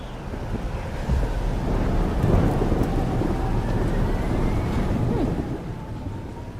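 Steady downpour and rumbling thunder in a Life is Strange: Double Exposure game scene, with a broad roar of rain and wind filling the whole stretch and low thunder rolling loudly underneath, no voices.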